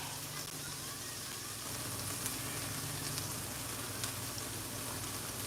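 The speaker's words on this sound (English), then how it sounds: "We're just going to be frying these up hard." Tortillas sizzle steadily in hot oil as they fry into hard taco shells, a continuous close crackling hiss with a low hum beneath and no voices.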